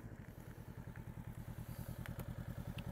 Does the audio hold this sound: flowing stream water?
no